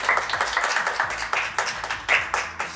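An audience claps for the day's first-place winner of a drawing contest at a youth tournament final, a dense, steady patter of many hands, fairly close, with a few louder individual claps standing out.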